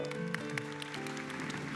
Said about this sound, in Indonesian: kita kasih tepuk tangan dulu yang luar biasa untuk Komil.